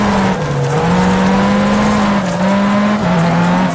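A rally car in the WRC 3 video game on the Acropolis stage, its engine roaring loud and continuous with pitch dips and rises as it brakes and swings through a handbrake hairpin, with tire noise underneath.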